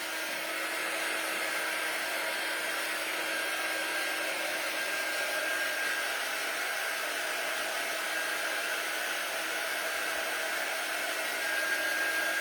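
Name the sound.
hair dryer blowing excess glitter off a craft bunny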